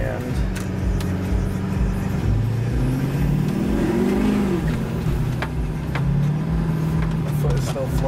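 A Duramax diesel truck engine held at full throttle with the accelerator floored, a steady loud roar with rising and falling tone as revs climb, while a person talks over it.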